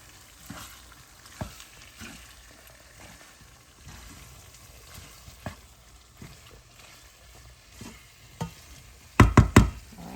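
Ackee and saltfish seasoned with black pepper fry in a pan while being folded, with a soft continuous sizzle broken by scattered spoon scrapes and taps, ending in a cluster of louder knocks against the pan.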